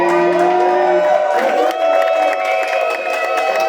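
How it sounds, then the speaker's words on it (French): A crowd cheers and whoops at a celebration, loud shouts and high voices mixing with some clapping in a lively burst close by. "un peu d'acclamation s'il vous plaît"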